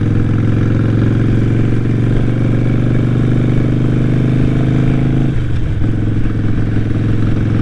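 A Harley motorcycle cruising on the freeway, its loud, steady engine drone mixed with rushing wind, with a brief change in engine pitch near the end.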